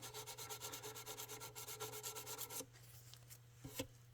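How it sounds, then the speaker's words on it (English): Hand polishing of guitar fret wire during a fret leveling and crowning job, a soft, quick back-and-forth rubbing rhythm for about two and a half seconds, then a pause and a couple of faint scrapes. "lightly polish it"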